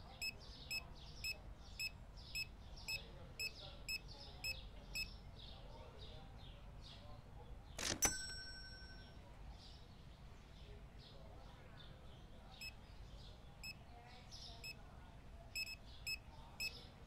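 Rapid, evenly spaced checkout scanner beeps from the video game Supermarket Simulator repeat through the whole stretch over a low background hum, with one sharp click partway.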